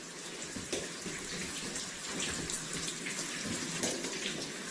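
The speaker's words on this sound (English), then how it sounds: "it's actually a lot of water dripping in here" Water drips and trickles inside an enclosed space, making a continuous, faint splashing patter with scattered louder drops and no talking.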